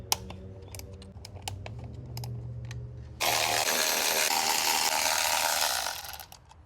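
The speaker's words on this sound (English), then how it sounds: "we're going to disconnect these 10mm bolts that are holding the coil packs in" Ratchet clicking as 10mm bolts holding the coil packs are loosened on a 2018 Acura ILX, close and distinct, a run of rapid mechanical clicks followed by a louder, denser rattling stretch.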